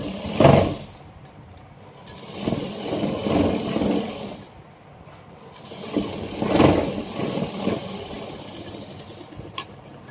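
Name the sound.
sewing machine stitching along the fabric edge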